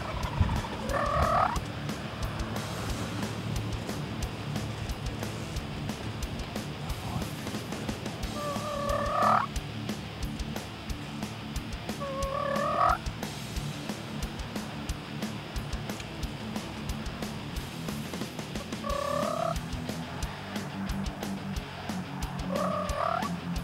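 A wild turkey gobbles several times at intervals over a steady outdoor hiss in New York, with low rumbling tones of spitting and drumming in the background and no one speaking.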